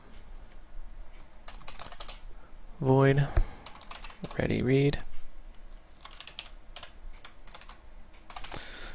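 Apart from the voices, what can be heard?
typing on a computer keyboard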